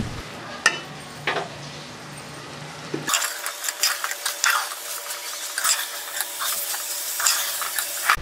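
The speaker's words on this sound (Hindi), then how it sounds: "अब हम इसमें करेले डालेंगे और करेलों को अच्छे तरीके से मिक्स करेंगे।" A spoon stirs bitter gourd (karela) and potatoes in a pan, making repeated close scraping and clattering strokes over a soft frying sizzle.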